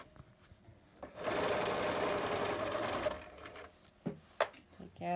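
A sewing machine runs a steady burst of backstitching over the elastic strap of a child-sized fabric mask, with quieter handling before and after and a person talking nearby.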